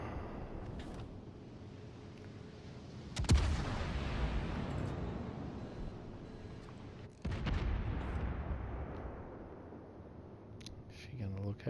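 Naval gunfire in World of Warships, firing AP and HE rounds: two heavy, loud booms a few seconds apart, each trailing off in a long rumbling decay.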